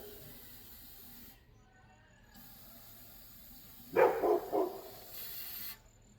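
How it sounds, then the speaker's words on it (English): Dogs next door bark in a short burst of three or four yaps, faint and distant, against quiet background hiss. "sounds like there's dogs next door that hadn't been in a while"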